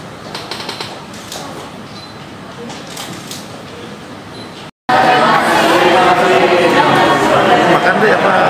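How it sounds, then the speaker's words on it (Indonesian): Guests at a ceremony awarding a sharia certificate to Yarsi Hospital in Jakarta burst into loud, sustained applause after a brief pause, preceded by quieter room chatter. "boleh memberikan tepuk tangan yang meriah atas telah diberikannya sertifikat syariah kepada Rumah Sakit Yarsi"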